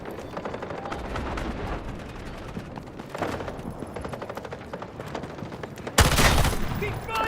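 Sustained automatic gunfire in the shooter game Delta Force, dense rapid bursts running throughout with a louder, closer volley near the end.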